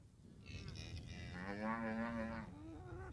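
Cattle on a Cajun farm at the start of a cattle drive, a single long, close, loud moo rising and bending in pitch over a few seconds above light background noise.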